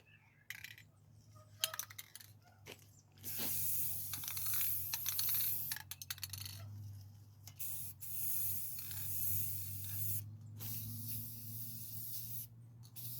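Semi-gloss paint is sprayed as a light coat onto a Pearl drum shell, in several sustained hissing bursts of a few seconds each, separated by short pauses and light clicks, close and steady.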